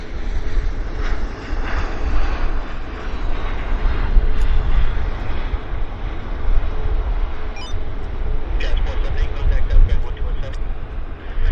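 A WestJet airliner lands at Vancouver Airport with a continuous, loud, broadband jet roar and deep low rumble that holds steady, heard from a distance outdoors.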